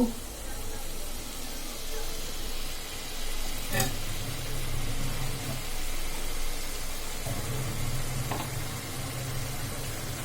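Bottle gourd pieces sizzle in a hot pan: a steady, even frying hiss lasting throughout, with a brief sharp clatter partway through and a low hum underneath.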